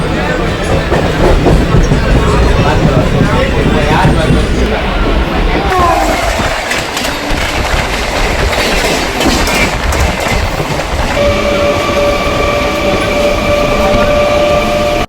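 A direct 10 o'clock passenger train bound for Puttur rumbles loudly and continuously along the rails. The steady roar of the carriages is later joined by thin, sustained wheel squeals.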